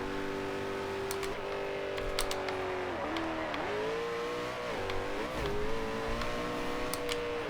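A 2011 Koenigsegg Agera engine in Forza Horizon 2 revs hard and loud through the gears, its pitch climbing and dipping with each shift over a constant motor drone, with no one talking.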